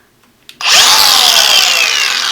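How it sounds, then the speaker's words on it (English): Power tool starts after a click and bites into a fiberglass-wrapped aluminium gas cylinder, giving a loud, sustained, high grinding whine that stays close and steady. "So that means we get to play with the power tools"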